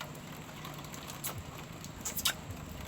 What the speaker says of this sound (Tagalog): Umuulan guys, umuulan.